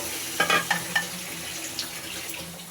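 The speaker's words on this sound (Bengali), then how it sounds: "আমি একটু পানি দিয়ে দিলাম, দিয়ে মশলাটাকে সুন্দর করে ভাজা ভাজা করে আবারও কষিয়ে নিব" Water hits a pan of frying dried-fish (loita shutki) masala, a few sharp bursts of crackle and splatter at first, then settling into a steady close sizzle with light stirring.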